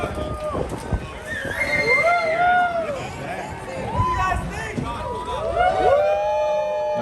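A crowd at Giga Texas reacts to a Cybertruck's arrival with cheers, whoops and excited shouting layered over a continuous babble of many voices, fairly loud and close.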